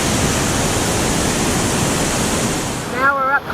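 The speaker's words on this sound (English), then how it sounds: "massive, this waterfall" A massive waterfall heard up close as a loud, steady roaring rush of falling water; near the end a voice briefly cuts in over it.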